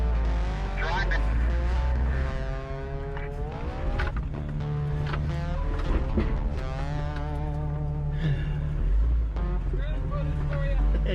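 A Jeep drives off-road on a rough trail, its engine rumbling and tires working steadily while people talk over the sound throughout.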